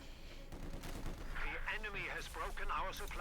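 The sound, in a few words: machine gun fire in Company of Heroes 2 video game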